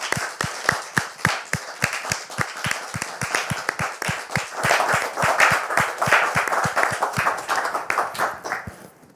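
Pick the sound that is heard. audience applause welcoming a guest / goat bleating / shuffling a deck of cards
audience applause welcoming a guest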